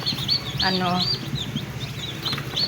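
Newly hatched chicks, part of a batch of thirty from forty-two eggs, chirp in a dense, continuous high-pitched chorus close by, with a few clucking notes from a nearby hen mixed in.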